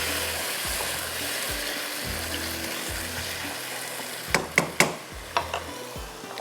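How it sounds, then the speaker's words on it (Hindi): Kaleji (liver) frying on high flame for a green-chili kaleji dish, a steady hiss of hot oil with several sharp clattering knocks from stirring toward the end, close and moderately loud, no talking. "इसको थोड़ा मैं तेज़ आंच पर भून रही हूँ"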